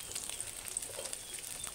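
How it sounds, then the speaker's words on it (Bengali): Chopped vegetables lightly frying with onions in a pan for a baby's chira pulao give a faint, steady sizzle, close by and with no talking. "তো সবজিগুলো নেড়ে চেড়ে খুব ভালোভাবে একটু হালকা ভেজে নিব"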